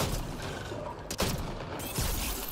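Pistol shots in the Mass Effect Andromeda video game, a slow-firing but hard-hitting sidearm, with a couple of sharp reports standing out against a dense, continuous backdrop of battle noise and effects.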